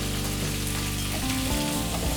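Chopped onion and green chillies frying in a pan for beetroot rice, a steady close sizzle with a shift in tone midway as more goes in, no talking.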